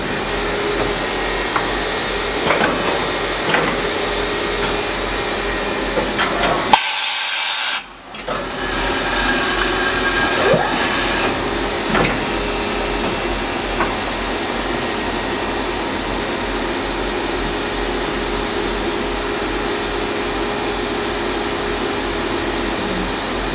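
Kitamura Mycenter 2X vertical machining center running with a loud, steady mechanical whir and hiss, a brief drop-out partway through, then the same continuous drone without voices.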